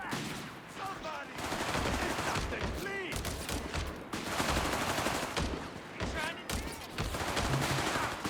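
Machine gun fire crackles almost nonstop in a Company of Heroes 3 2v2 battle, dense bursts and rattling volleys overlapping, with a voice talking over the fighting.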